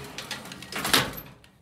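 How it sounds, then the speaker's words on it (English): An antique gated Westinghouse elevator gate, manual and not self-closing, slides shut with a metallic rattle that builds to a clatter near the end and then fades, heard close with no talk. "it's an old gated Westinghouse elevator"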